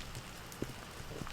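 Steady rain patters outside an old cabin being rebuilt, a soft continuous wash with a few louder drops striking nearby surfaces, no voices.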